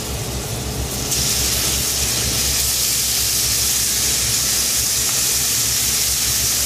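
Bacon sizzles loudly in a pan as a second batch cooks, a dense, steady hiss close by that swells after the first second and then holds constant, with no talking.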